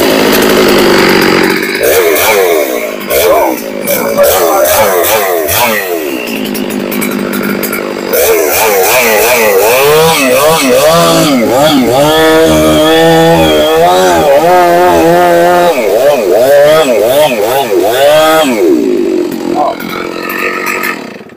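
A chainsaw runs loud and close, its engine revving and bogging as the chain bites into a tree trunk during a felling cut, with a steady high whine throughout and a brief voice near the start.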